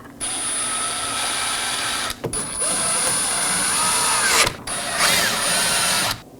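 A power tool snugs down bolts on a 2018-2024 Chevrolet Equinox rear shock assembly, a steady whirring drive broken by three short pauses, up close with a thin high whine over it.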